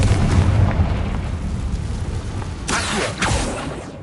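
A Confringo fire spell exploding in the video game Hogwarts Legacy, a heavy rumbling blast that fades, followed by two sharper bursts near the end.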